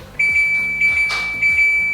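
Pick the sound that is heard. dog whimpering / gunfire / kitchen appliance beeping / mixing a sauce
kitchen appliance beeping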